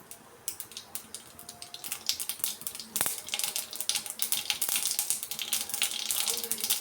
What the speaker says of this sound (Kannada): ಆಯಿಲ್ ಬಿಸಿಯಾಗಿದೆ. ನೋಡಿ, ಸಾಸಿವೆ ಸೇರಿಸ್ಕೊತಾ ಇದ್ದೀನಿ. ಸಾಸಿವೆ ಸ್ವಲ್ಪ ಚಿಟ್ಪಟ ಆಗಲಿ